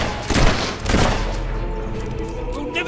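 Gunfire in the Fable 3 video game, a couple of loud bursting shots in quick succession followed by a lingering rumble of battle ambience.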